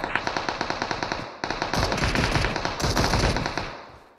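Rapid automatic gunfire in PUBG Mobile, a steady rhythmic burst of sharp shots that intensifies into a denser, louder volley before tailing off, heard alone without talk.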